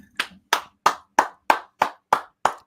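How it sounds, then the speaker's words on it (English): Eight slow, evenly spaced claps ring out one at a time, sharp and close, with silence between each one. They come from a lone person and not a crowd. "I'd like to stand up and give Santa Monica Studios a round of applause."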